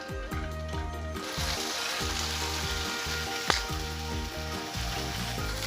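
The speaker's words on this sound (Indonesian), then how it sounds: "Setelah minyak panas kemudian goreng tahu." Tofu fries in hot oil in a nonstick pan with a steady, close sizzle throughout, joined by one sharp spatter midway, while music plays softly in the background.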